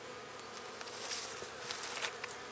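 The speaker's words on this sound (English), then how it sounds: "when you give them smoke, they really start buzzing" Honeybees in a hive after smoking, a dense, steady buzzing drone close to the listener, with individual bees flitting past in brief louder whines over the constant hum.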